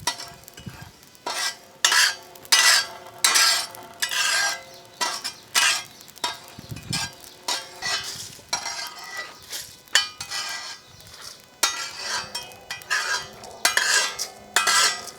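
Whole spices (pepper, cumin, fennel, fenugreek and cloves) dry-roasting in a pan for a paneer ghee roast, with repeated scraping and stirring strokes and light rattling of seeds against metal, close and steady, no talk.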